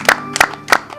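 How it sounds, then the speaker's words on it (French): Three sharp bursts of hand clapping from a congregation at a church service, spaced about a third of a second apart and close and loud over a low musical hum. "Applaudissez pour vous-même. Applaudissez pour Jésus."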